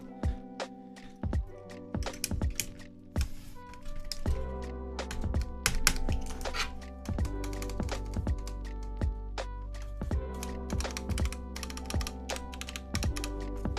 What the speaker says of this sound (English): But then I get to hear maximum clack, dude. I get to hear maximum thock.